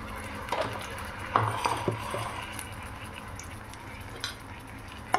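Poppy seeds being stirred in a hot pan for a lentil wadi and posto dish, a spoon scraping and tapping in a loose, irregular rhythm of close, soft clicks and rustles with no talking.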